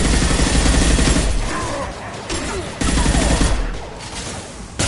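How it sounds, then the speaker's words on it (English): Sustained video game gunfire, dense rapid bursts of shots filling the scene at loud volume, briefly thinning before resuming, with no talk over it. "Taking fire."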